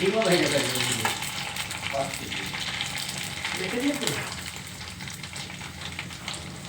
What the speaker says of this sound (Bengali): ওই যে ফুচকা ভাজা হচ্ছে